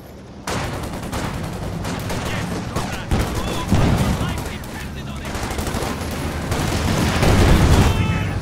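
Dense machine-gun bursts and heavy booms of mortar fire in a video game's battlefield, loud and close, with rapid crackling shots running almost continuously and a few louder impacts standing out.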